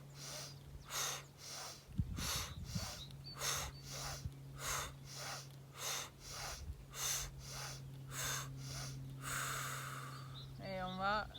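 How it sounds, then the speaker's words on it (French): Slow guided breathing in a calm mother-and-baby exercise session, inhaling through the nose and exhaling through the mouth: about a dozen soft, regular breath pulses, close and gentle, over a steady low hum. "on va inspirer par le nez et expirer par la bouche"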